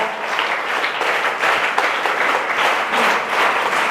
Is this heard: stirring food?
no